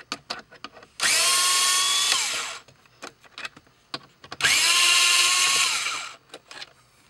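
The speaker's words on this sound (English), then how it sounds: "You're going to see there's two torque screws here. These are T20 Torx. We're going to remove those." A power driver whirs twice, each run roughly a second and a half, backing out T20 Torx screws from a VW Mk6 GLI/Jetta dashboard panel, with loud close motor tone and handling clicks in between.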